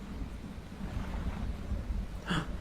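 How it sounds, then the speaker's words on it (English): Storm wind and waves in the fishing game Dredge: a continuous low rushing roar of wind and water, fairly steady, with a brief brighter splash near the end and no talking. "Okay, and it's starting to storm."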